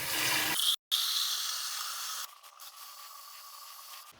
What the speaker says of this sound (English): Fill it up completely with water.